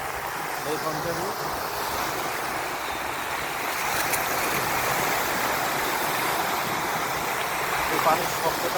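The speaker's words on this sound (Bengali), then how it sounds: "এই পানির শব্দটা মানুষকে পাগল করে দেয়।" Rough waves on Lake Ontario crash onto the shore in a continuous loud roar of surf and churning water, steady from start to finish.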